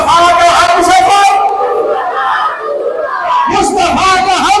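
A large Sunni gathering at a religious assembly chants a slogan in unison. The loud, massed voices rise in bursts, dip into a brief lull and then surge again, sounding close and powerful.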